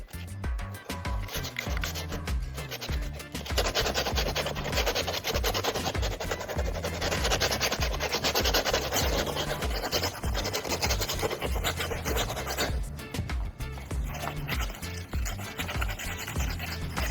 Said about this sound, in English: I'll gently scrape away any remaining glue and dirt from both the sole and the upper